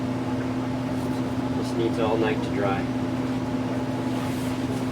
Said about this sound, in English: sorry about the furnace noise